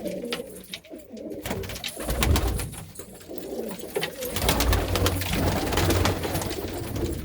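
Malwai pigeons coo in low, throaty, overlapping calls from a village loft, close and fairly loud, with rustling and light background noise.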